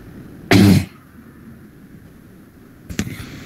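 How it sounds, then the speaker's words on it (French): One loud, abrupt cough, followed by a softer throat-clearing sound a couple of seconds later, in a quiet room. "Avec le changement de temps, je tousse."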